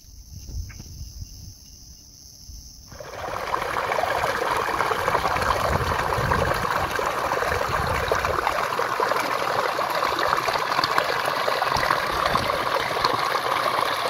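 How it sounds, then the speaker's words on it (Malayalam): A waterfall stream at Paithalmala flows in a steady, loud rush after a brief quieter opening, with insect chirring mixed into the continuous wash of water. "നമ്മൾ ഈ കാണുന്ന വെള്ളച്ചാട്ടം, ഈ വെള്ളം കുറച്ചുകൂടി മുകളിൽ നിന്ന് ഒഴുകി വരുന്നതാണ്"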